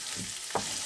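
Duck in clementine juice and honey simmers in a covered pan, giving a soft, continuous hiss with a faint bubbling pop near the end.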